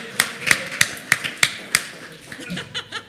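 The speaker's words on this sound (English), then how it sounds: "Let's give him a round of applause." A small group claps for someone in a hallway gathering, a handful of sharp, separate claps in a loose rhythm, with light chuckling and murmuring mixed in before fading out.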